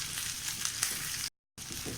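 Onions with green chillies frying in a pan, a steady close sizzle that cuts out briefly and resumes.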